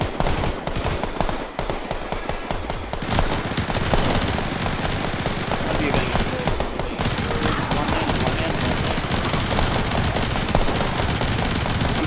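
Rapid, sustained automatic gunfire in the zombie shooter Zombie Survivors, a dense, loud, continuous stream of shots running through the whole stretch, with a voice briefly audible beneath it.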